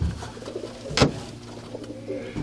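Pigeons coo softly inside a small backyard loft, with repeated low murmuring calls and a sharp knock partway through, nearby and without talk.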